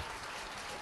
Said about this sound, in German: Dankeschön, Graz, für den Applaus.